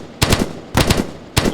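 Three bursts of rapid automatic gunfire from the military shooter game ArmA 3, loud and close, each a quick cluster of shots separated by short pauses.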